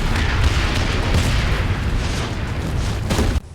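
Explosions in the action film Predators roar as a continuous, dense wall of booming blasts and rumble, loud and close, with no talking, cutting off abruptly near the end.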